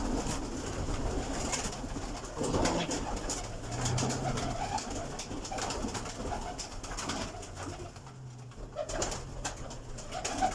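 Breeder pigeons in a loft give repeated low cooing calls, layered over a steady background hum with some faint distant voices.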